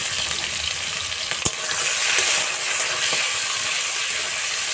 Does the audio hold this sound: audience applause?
no